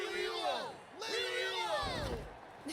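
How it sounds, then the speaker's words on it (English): Crowd cheering in Genshin Impact's Natlan arena, a roaring mass of voices with whoops and yells swelling in waves, distant and fairly soft, with no talk over it. "The exhilarating cheers of the crowd."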